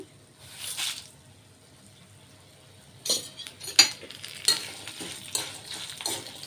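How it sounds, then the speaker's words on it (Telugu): Dried red chillies sizzle and crackle in hot oil, with a few sharp spoon clinks and stirring scrapes against the pan, quiet otherwise. "ఇప్పుడు ఎండుమిర్చి కూడా వేసేసుకుందాం"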